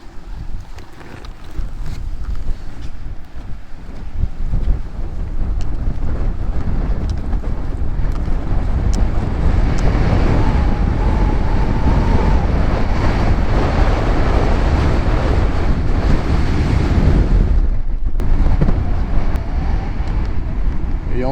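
Strong wind buffeting at a Scottish castle, a loud roaring rush battering the microphone continuously, with gusts swelling and easing and no talking.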